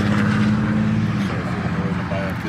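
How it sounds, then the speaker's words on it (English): Steady roar of passing vehicles from a nearby busy highway, loud and continuous, with a person talking over it. "Sorry for the noise. I'm by a busy highway,"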